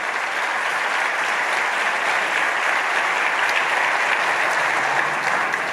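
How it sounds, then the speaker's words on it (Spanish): A church congregation applauds loudly and steadily, the dense clapping of many hands filling the room without pause. "Vamos a darle ese aplauso fuerte al Señor."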